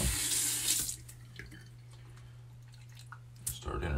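Tap water runs steadily into a sink during a head shave with a badger brush, a loud rushing gush at the start and end with a quieter trickle and faint drips between.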